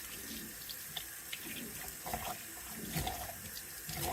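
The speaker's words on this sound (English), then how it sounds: "So let's get some hot water." Water runs steadily from a tap, a continuous hissing splash with small clinks, fairly quiet and close.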